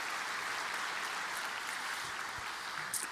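A church congregation claps steadily, a dense wash of applause that stays even for about three seconds without pausing, heard from within the room with no clear speech.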